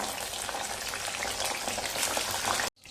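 Cauliflower pieces deep-frying in hot oil for a dhaba-style veg dum biryani, a dense, steady crackling sizzle that stops abruptly near the end, with no voices.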